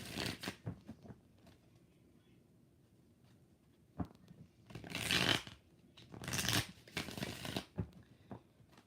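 Tarot cards being shuffled by hand in bursts of papery riffling and slapping, with quiet gaps between the louder shuffles, up close and with no talking.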